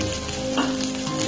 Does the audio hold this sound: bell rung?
no